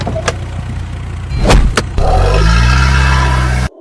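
A car engine starts with a couple of door or body knocks, then runs steadily and loud as the vehicle pulls away, cutting off abruptly at the end.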